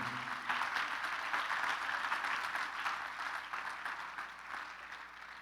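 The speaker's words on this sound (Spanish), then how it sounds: "Denle un aplauso al Señor." A church congregation applauds in praise, a sustained, moderately distant wash of clapping that stays even throughout before tapering slightly at the end.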